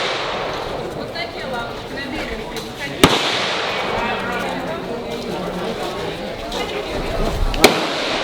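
AK-47 rifle gunshots at a Vietnam War tunnels site, two sharp, distant cracks about four seconds apart, heard under people talking and a busy outdoor background.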